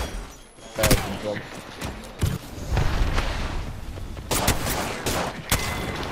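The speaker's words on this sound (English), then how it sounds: "They're gonna shoot at us now. My my, they are terrible shots." Enemy gunfire in a shooter video game, scattered loud sharp shots and thuds, some clustered, under a voice talking throughout.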